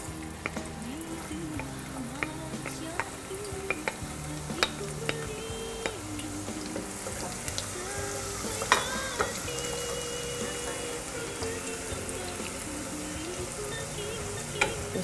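Chopped onions sizzle in a small amount of vegetable oil for jollof rice, a steady close crackling fry with occasional louder pops and scraping stirs, no talking.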